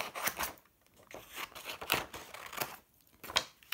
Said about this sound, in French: Je vais juste découper un morceau dedans.